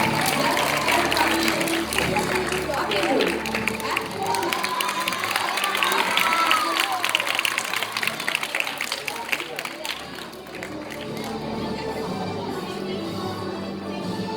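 A crowd applauds with dense, sustained clapping and some cheering throughout at a school inter-house drama competition awards, tapering slightly toward the end.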